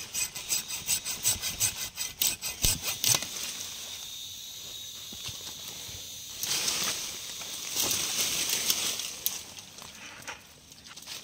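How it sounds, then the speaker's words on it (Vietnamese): A branch of a chòi mòi tree is sawn by hand, a run of rapid rhythmic strokes in the first few seconds, then softer rasping scrapes and rustling. Close and fairly loud, with no talking. "Em sẽ cưa cành cho mọi người xem nha."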